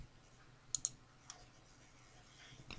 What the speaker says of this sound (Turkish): Buralara da bir tıklayalım.